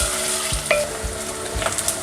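Onions frying in hot oil in a pot, a steady close sizzle with a few stirring scrapes of a utensil and faint pan clinks, no voices.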